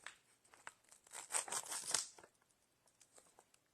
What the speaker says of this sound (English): This does not have the regular zip strip. It's kind of like a Velcro strip.